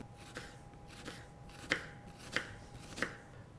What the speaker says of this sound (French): J'émince l'oignon, donc je le coupe en deux. Et j'émince en fines lamelles.